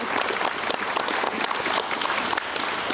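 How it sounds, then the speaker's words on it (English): A large audience at a governor's workforce summit applauds, a dense, even wash of many hands clapping at close range throughout with no pause. "And I want all of you students to give Ms. Josina Balipol a round of applause."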